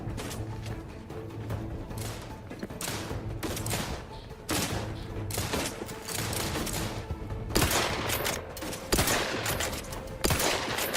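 Repeated volleys of gunfire rattle through a Cyberpunk video game firefight, with sharp bursts and clusters of shots coming in irregular waves over a mechanical background hum.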